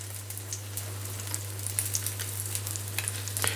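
Sesame-breaded chicken breast fries in clarified butter in a pan, giving a steady close sizzle with small crackling pops and a constant low hum beneath, with no talking.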